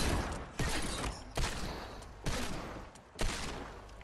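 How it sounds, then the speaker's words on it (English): Pistol shots in Fortnite ring out in four loud, separate blasts at a steady pace, each trailing off into noisy game ambience. "Double pistol incoming."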